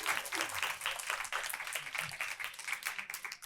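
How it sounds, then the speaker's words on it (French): A seated audience at a 40th-anniversary panel of a Quebec women's development committee claps for the panel members, producing a moderately loud, continuous ripple of applause. "Un bon applaudissement à toute cette tablée, s'il vous plaît."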